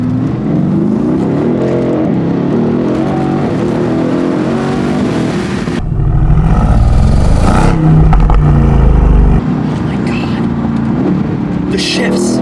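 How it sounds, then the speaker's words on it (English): A 2020 Mercedes-AMG GT C roadster accelerates hard, its engine and exhaust rising in pitch through the revs with a deep, loud, burbling growl, easing briefly before pulling again near the end. "the grunt and the burble on the freaking exhaust note"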